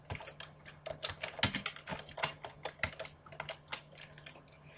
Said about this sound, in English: So typing is a bit slow, but you can type it if you want.